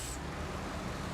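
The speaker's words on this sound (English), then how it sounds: "this truck's too loud" A truck engine drones loudly and steadily in the off-road driving game Snowrunner, a close, continuous low rumble with no talk.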